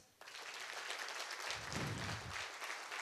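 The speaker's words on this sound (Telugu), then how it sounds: "వాళ్ళకి ఒకసారి జోరుగా క్లాప్స్" Audience applause at a gathering honouring a founder's success story, continuous clapping from a crowd, fairly faint and distant, swelling slightly midway with a low rumble, no talk over it.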